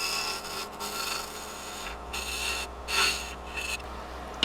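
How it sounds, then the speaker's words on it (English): A box scraper works a wooden lid spinning on a lathe, flattening the dovetail area; a continuous close rubbing, rasping scrape with brief swells of louder contact, no voices. "we'll Use our box scraper to flatten that spot out a little bit."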